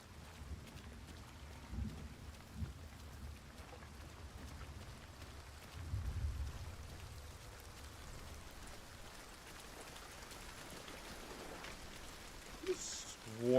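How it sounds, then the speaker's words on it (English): Heavy rain in the video game Forever Winter, a quiet steady wash of rainfall with low rumbling swells, heard faintly and continuously throughout. "it's heavy rain"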